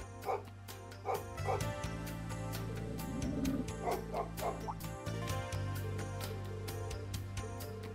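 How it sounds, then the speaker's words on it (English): In Trails of Cold Steel 3, a game dog gives a few scattered barks and yips under continuous background music, with the barks fairly faint against the score. "That dog's always making a racket."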